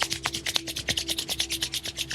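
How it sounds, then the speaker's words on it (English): Palms rubbing briskly together during a home beginner yoga session, a steady close run of soft dry swishing strokes repeating rapidly for about two seconds, with no talking. "Rub your palm together."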